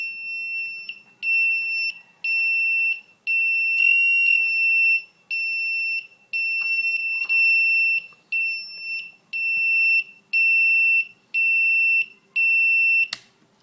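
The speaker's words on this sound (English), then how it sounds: "555 timer buzzer circuit." A 555 timer buzzer circuit sounds a shrill electronic tone in repeated on-off bursts of about a second each, loud and steady with short gaps between them.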